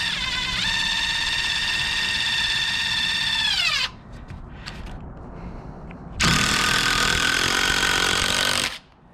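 A power drill drives screws into a roof deck while a Velux skylight with its flashing kit is installed, giving two loud, sustained whirring bursts of several seconds each separated by a short quieter pause.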